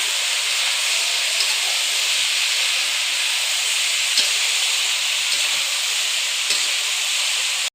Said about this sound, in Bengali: এবার বেশ ভালো করে লাল লাল করে ভেজে নেবো মাছের তেল